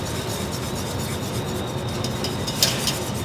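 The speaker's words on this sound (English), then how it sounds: "now I'm going to keep whisking until it thickens for about 1 minute" A whisk rubbing and scraping steadily in a pot of pastry cream as it thickens, a close, continuous rasping stir with no speech.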